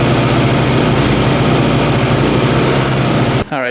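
Dirt bike engine idling with coolant leaking from the overflow, a steady loud continuous rumble that holds evenly before cutting off abruptly near the end.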